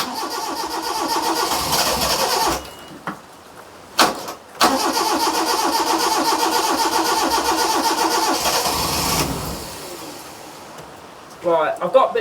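An abandoned Proton Wira, sitting for 14 years, cranks and catches, its engine roaring loudly for a few seconds, dropping out, then restarting and running steadily before fading. A voice talks over the last moments.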